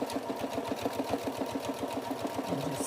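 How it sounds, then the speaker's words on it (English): A sewing machine stitches closed a fur rabbit headband, running in a quick, steady mechanical rhythm of close, regular clicks over a low motor hum, fairly near and moderately loud. "I'm just sewing it"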